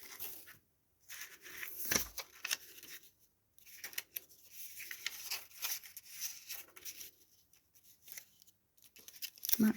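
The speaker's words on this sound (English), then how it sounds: "I'm just going to rip my glue paper. Excuse the noise." Glue paper is ripped up close in a quiet craft room, giving several brief, dry tearing bursts with short pauses between them.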